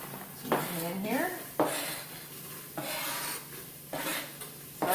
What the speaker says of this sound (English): Now what I'm going to do is add 1 small onion that I've already diced up.